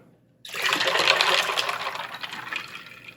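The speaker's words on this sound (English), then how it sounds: "Add additional cold water." After a moment of quiet, cold water pours steadily and fairly loudly into a bowl of brine with ice, a continuous splashing rush that gradually eases.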